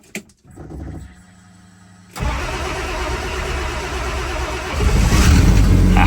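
Turbocharged Slant Six car engine cranks briefly, then catches and settles into a rough, loud idle that swells slightly toward the end, heard up close in a garage with no talk.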